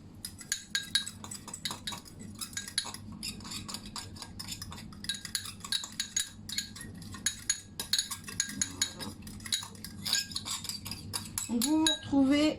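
A spoon mixes tomato paste with water in a bowl while preparing a tomato twist pastry. Rapid repeated clinks and scrapes of metal against the bowl run throughout, with occasional faint speech.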